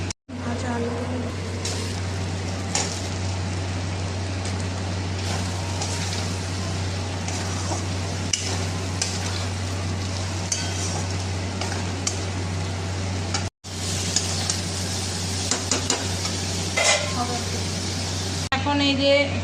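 Fried potatoes stirred into a jackfruit curry cooking in goat fat give a steady, close sizzle with scraping stirs over a constant low hum, broken by one brief cut partway through.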